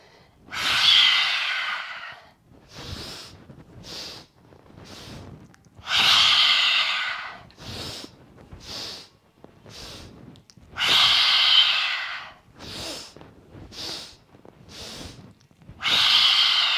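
Guided yoga breathing: four long, loud exhales through the mouth, with shorter, quieter inhale sniffs through the nose between them, repeated in a steady cycle with no talk.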